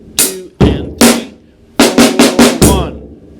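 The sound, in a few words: drum kit beat with hi-hat and snare drum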